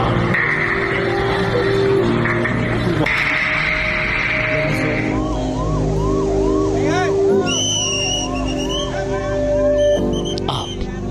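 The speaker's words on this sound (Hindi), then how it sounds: "सिर्फ एम्बुलेंस का शोर है" Wailing ambulance sirens at the Air India AI-171 plane crash site in Ahmedabad, loud and near, with rising and falling tones overlapping amid background crowd noise and voices.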